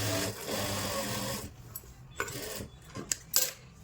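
A sewing machine runs a continuous stretch of stitching along a lined kurti seam, then stops, followed by a few light handling clicks and knocks close by.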